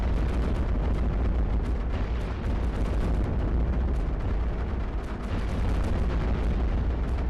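Cannons firing in the tower defense game iBomber Defense, a continuous barrage of heavy booms and blasts piling over one another into a loud, dense rumble of battle that barely lets up.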